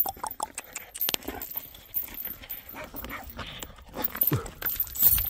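Several young puppies barking and yipping in short, uneven bursts close by, mixed with scuffling and clatter, while they are being fed outdoors in cold weather by a memorial hall.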